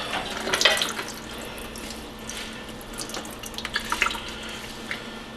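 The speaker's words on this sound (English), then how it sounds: "Get as much of that water out of there as you can." Water squeezed out of a wet leafy green vegetable by hand drips and splashes into a sink, coming as a few short, close trickling bursts over a quiet background with no talk.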